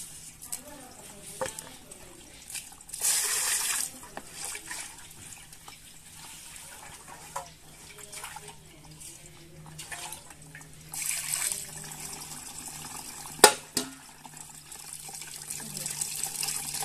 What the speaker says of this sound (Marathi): सुपाला ना बारीक बारीक होल आहेत, सगळं पाणी निघून जाईल